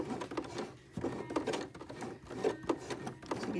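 A home sewing machine stitches elastic and binding on a bralette strap, giving a soft, close rhythmic whirring in short runs with brief pauses between them.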